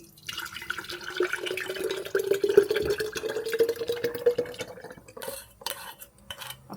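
Curd being whisked in a bowl with water mixed in, a busy run of wet clinking and sloshing strokes close by, fast and irregular, with a steady hum underneath; it fades near the end to a few sharp knocks.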